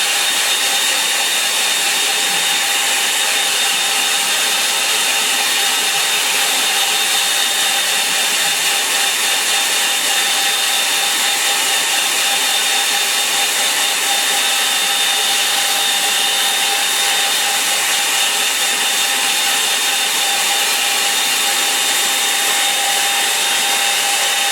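A hair dryer blows steadily on drying paint, a loud, even whine and rush that holds unchanged from start to finish, close by, with no voices.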